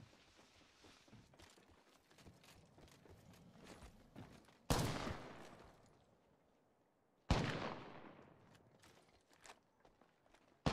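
Bursts of gunfire in a squad-based battle royale shooter: a soft patter of steps and small shots, then two sharp, loud blasts that ring out and decay, with a third starting at the end.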